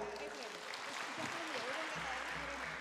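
Audience applause at an alumni coaching session, a steady wash of clapping from a room full of people, filling the whole moment without pause.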